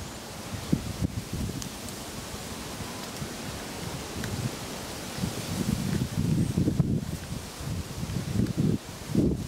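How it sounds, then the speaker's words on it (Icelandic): Strong wind rushes through the branches of an English oak in gusty, uneven surges, with leaves rustling and wind buffeting the microphone, and the gusts grow stronger toward the end. "Og svo mikill vindur."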